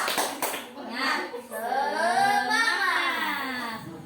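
Children in a classroom ice-breaker perform a rhythmic clapping chant, a few sharp hand claps mixed with young voices chanting loudly and up close.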